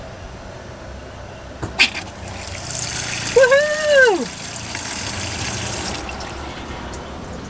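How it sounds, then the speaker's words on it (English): At a campsite, a water pump's hum and a steady rush of running water continue throughout, while a cat-like vocal cry rises and falls over it, with a sharp knock early on. "Turn on the water pump."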